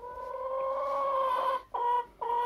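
A chicken clucks up close in drawn-out, tonal calls, one long call followed by two shorter ones with brief pauses between.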